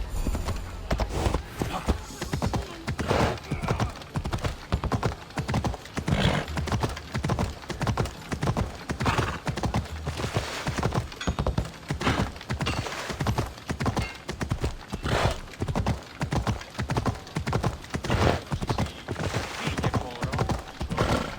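Horse hooves in the video game Assassin's Creed clip-clop in a steady, even rhythm throughout, close and distinct, with faint talk in the background.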